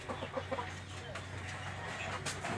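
A month-old Rhode Island Red chick clucks in soft, rapid short calls near the start, followed by quieter background noise with a steady low hum.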